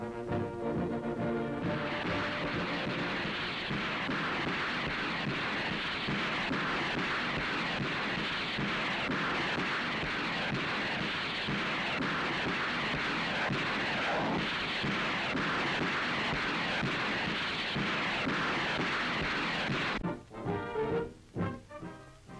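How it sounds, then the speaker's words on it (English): A Sherman T34 Calliope rocket tank fires a continuous barrage of rockets from turret-mounted tubes, a loud sustained roaring rush lasting about twenty seconds before cutting off into fading rumbles. "the rockets can be shot singly, in groups of six, or all 60 in a continuous stream"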